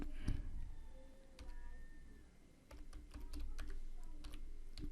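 Someone types on a computer keyboard while building an age calculator app, entering text for a button label. Quiet, close keystrokes come in an irregular scatter, with a denser run toward the end and no talk.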